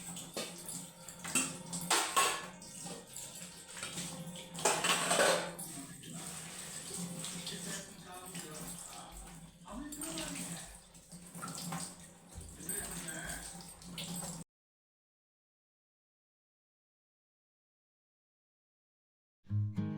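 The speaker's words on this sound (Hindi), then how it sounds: "जब मैं बर्तन धो रही हूँ ना, मेरा पूरा हाथ ना इतना ठंडा हो जा रहा है ना" Dishes, pots and pans being washed under running tap water in a home kitchen sink on a cold night, with steady splashing and clinking for about fourteen seconds before a sudden silence and a brief return of sound.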